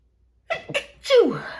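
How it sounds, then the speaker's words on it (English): A single person sneezes close up after a moment of silence, with two short sharp intakes followed by a loud burst that trails off. "I'm going to sneeze."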